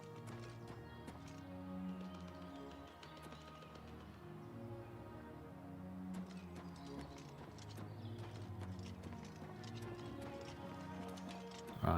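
Steady, rhythmic clip-clop of horse hooves continues throughout in Oblivion Remastered, with game music playing underneath.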